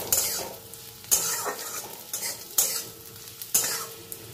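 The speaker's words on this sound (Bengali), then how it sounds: "পোস্তটা দিয়েও সব কিছুর সঙ্গে খুব ভালো করে নাড়াচাড়া করে নেব।" Spices and whole poppy seeds fry in a pan over a constant sizzle, as a spatula scrapes and knocks against the metal three times at roughly even intervals, close and alone.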